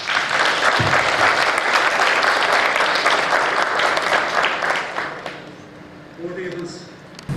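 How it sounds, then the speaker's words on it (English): Applause from the audience for the speakers at a maritime symposium: loud, dense clapping that holds steady, then thins and dies away into quiet room sound near the end. "May I have request for a round of applause for the speakers."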